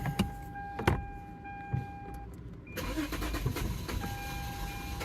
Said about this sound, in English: The starter's still engaged. When the starter comes off, it's running real bad.